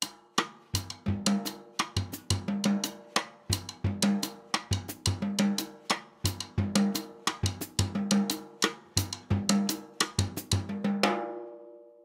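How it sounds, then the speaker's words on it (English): A drum groove with the hi-hat played on beats 1 and 3 repeats as a steady, crisp pattern of sharp hits and low drum thumps, played alone and close, ending on a ringing final stroke. "I'm going to use my figure from 2D, adding the hi-hat on 1 and 3"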